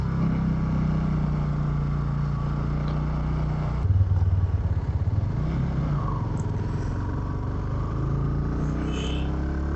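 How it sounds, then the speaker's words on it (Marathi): Busy road traffic with motorcycles and cars near Jamboti on a ride from Belgaum toward Goa: a steady low engine drone with a brief clattering swell partway through, no speech. "भरपूर ट्रॅफिक लागले आता इथं."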